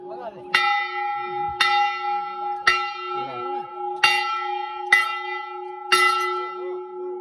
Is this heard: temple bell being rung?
yes